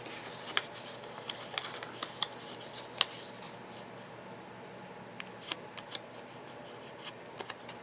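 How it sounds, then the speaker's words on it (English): Sheets of paper being folded in half for making mini journals, crisp rustles and sharp creasing snaps repeating irregularly, close and fairly quiet. "So now I'm folding my papers in half."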